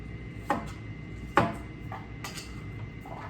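A manual food processor chops chunks of purple onion, giving a few sharp, separate chopping clacks spaced about a second apart over a quiet background, close and crisp with no talk.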